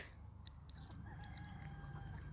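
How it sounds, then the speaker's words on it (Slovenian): A black rooster crows faintly in the distance with a drawn-out, wavering call over a low, steady background rumble. "It's a black cock."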